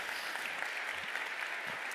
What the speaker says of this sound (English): a huge round of applause for our great guests.